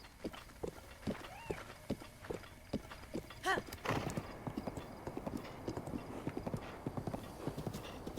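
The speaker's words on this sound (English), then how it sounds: "Epona is just a really good horse." The horse Epona trots across terrain in the Breath of the Wild video game, hooves clip-clopping in a steady rhythm with a brief whinny, under game ambience and faint voice.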